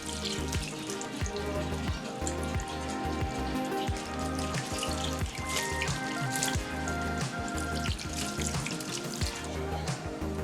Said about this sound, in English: Just run the cold water over the rice because we're stopping the cooking process